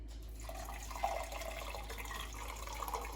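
Water pours steadily through a strainer into a sink, a soft continuous splashing and trickling that stays fairly faint throughout.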